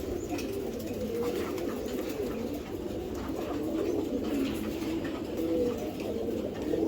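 Giribaz pigeons in a loft coo in soft, continuous low throaty murmurs, several birds overlapping close by.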